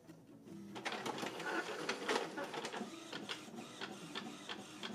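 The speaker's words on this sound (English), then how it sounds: "I'm just going to go ahead and print the packing slip" Home printer printing a packing slip, a run of rhythmic mechanical clicks and whirring feed strokes, close and fairly quiet, with no one speaking.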